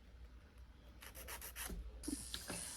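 Nails are filed to shape during an acrylic nail fill-in. After a quiet start, soft, close rasping strokes come in quick, uneven succession.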